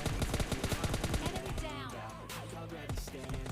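Rapid bursts of automatic gunfire in the mobile battle royale game PUBG Mobile Lite, loud, close, rattling shots in quick rhythmic strings followed by scattered single shots.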